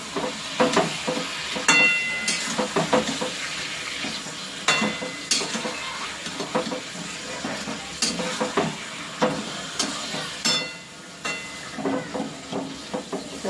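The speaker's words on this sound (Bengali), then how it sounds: "এই যে আলুটাও দিয়ে দেবো এখন, দিয়ে ভালো করে নাড়াচাড়া করে ঢাকা দিয়ে রাখবো।" Potatoes are stirred and fried in a pan, a hissing sizzle broken by repeated clinks and scrapes of the spatula against the pan in an irregular rhythm, close up with no talking.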